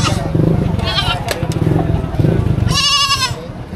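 Goats bleat in short wavering cries at a livestock auction in Padre Garcia, Batangas, one loud and close near the end, while people talk over the background.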